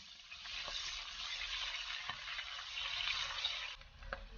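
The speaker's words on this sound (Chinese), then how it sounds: "油热之后倒入虾头翻炒，中小火炒出虾油" Shrimp heads stir-frying in hot oil over medium-low heat, a steady bright sizzle with soft scraping stir strokes and a few clicks of the spatula against the wok, continuous and close.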